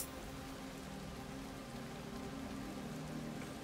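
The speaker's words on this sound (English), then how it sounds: "It's raining outside." Steady rain falls outdoors in the survival video game Soulmask, a constant broadband hiss of drops on surfaces that holds at an even level throughout with no talking.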